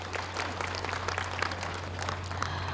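An audience at a centennial commemoration ceremony for a Confucian scholars' independence movement applauds, continuous dense clapping heard from within the crowd with a steady low hum underneath.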